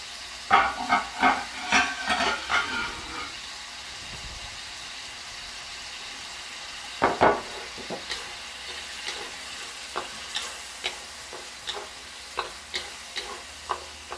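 Mapo tofu sizzling in a pan, with a burst of quick scraping stir strokes at first, then a steady hiss punctuated by regular soft spoon taps, up close with no speech.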